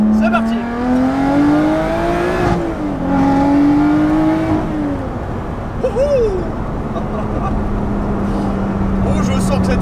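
A Lotus Exige V6 430 Cup sports car engine accelerates hard along a short straight, its loud, steady drone rising in pitch through the gears with brief dips at each shift, up close from inside.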